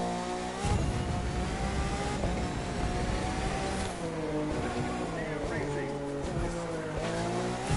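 A hypercar in The Crew 2 racing game braking hard, with a loud, continuous engine roar and a rising tire squeal close up, while a voice talks over it.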